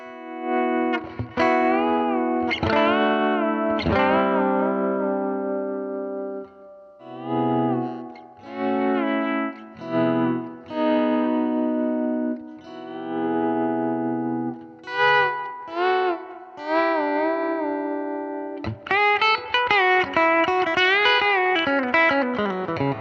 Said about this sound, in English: Let's hear some bender licks.